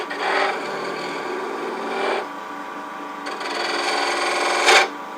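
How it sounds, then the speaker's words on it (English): A detail gouge cuts into a spinning wooden box on a lathe, giving a steady close rasping hiss that swells and eases in a few passes, ending with a short sharp catch. "I'm going to go ahead and take my detail gouge and just kind of open up some of that a little bit"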